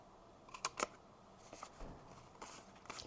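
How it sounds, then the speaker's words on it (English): A hole punch snaps through a paper Christmas tag in a few quiet, sharp clicks and crunches, with faint handling rustle between them in a still room. "and punch the hole"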